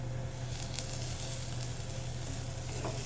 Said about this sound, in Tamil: இந்த அளவுக்கு பூண்டும் வெங்காயமும் நல்லா வதங்கணும்.